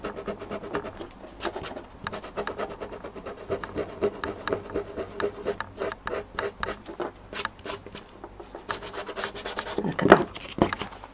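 A Mono sand eraser scrubbing on a stamped paper card, a long run of quick rhythmic rubbing strokes, close and fairly loud, with short pauses and a slightly heavier burst near the end.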